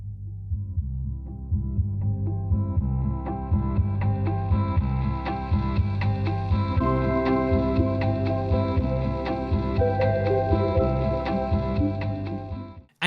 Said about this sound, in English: the Little Big Planet song from Little Big Planet 1 sounds like this.